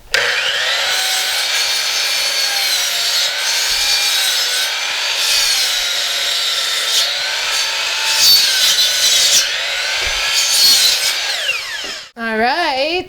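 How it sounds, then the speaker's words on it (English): Rough rustic hardwood timber being cut to size with a power saw, a loud continuous whining cut with shifting pitch that runs steadily for about twelve seconds before the blade spins down. "So I'm going to go ahead and just make these cuts."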